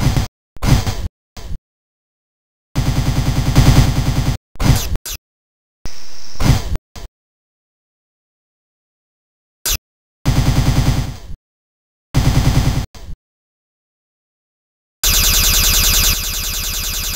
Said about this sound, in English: Jonas, the fuel rod gun.